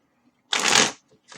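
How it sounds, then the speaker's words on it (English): A deck of tarot cards is riffle-shuffled once, a single close, crisp half-second burst of rapid card flutter in a quiet room, followed by a faint start of another shuffle. "I'm just going to go ahead and get us started with some shuffling here"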